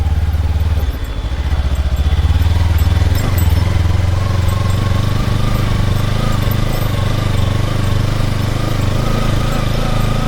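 A Kawasaki Ninja motorcycle engine drones loudly and steadily while riding on rough roads, its pitch rising slightly as it revs, with a continuous low rumble and wind noise throughout.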